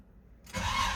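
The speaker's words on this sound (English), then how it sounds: "I'm gonna fire this up for you so you can hear it run." A 1955 Chevrolet 1500 street rod truck with a 454 big block engine fires up after a brief quiet moment, catching abruptly into a loud, rumbling idle.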